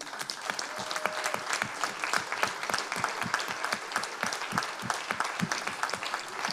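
An audience applauds a woman named Sylvie at an anniversary event for the Ville & Banlieue network, with sustained, dense clapping filling the room and steady in volume.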